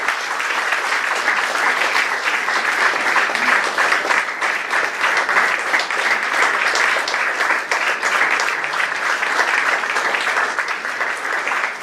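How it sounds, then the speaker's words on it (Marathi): A large audience at a spiritual gathering bursts into loud, sustained applause for nearly twelve seconds, a thick, even roar of clapping hands close by. "टाळ्यांचा कडकडाट करायचा आहे"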